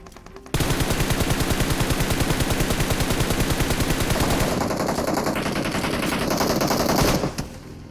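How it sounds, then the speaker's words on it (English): Rapid sustained automatic gunfire in PUBG Mobile on the Livik map, a loud continuous burst of evenly spaced shots lasting several seconds before cutting off abruptly. "shots and gunfights can still be heard at their usual distance"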